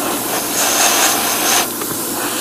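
An airbrush at about 35 PSI sprays paint with a continuous close hiss that swells for a moment and then eases back.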